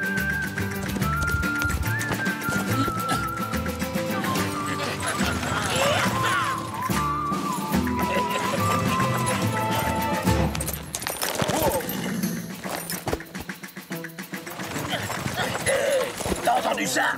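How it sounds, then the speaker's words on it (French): Galloping horse hooves clip-clop in a quick, steady rhythm beneath voices and other busy background noise in an animated Zorro cartoon, continuing throughout. "Mais c'est comme s'il y avait un cheval là, juste derrière nous."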